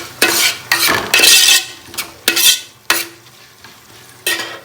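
Cumin and coriander seeds fry in a pan for a kori pathradde recipe, with about seven close, sharp scraping stirs of a spoon against the metal over a low sizzle, no talking.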